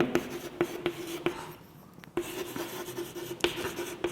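Handwriting in a maths lesson on arithmetic progressions, probably chalk or pen on a board, giving close scratchy strokes and taps in irregular bursts with a brief pause midway.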